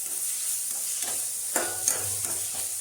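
Small-chopped onions sauté in hot oil with a little salt for okra kara kuzhambu, giving a soft, even sizzle with a few brief stirring scrapes close by.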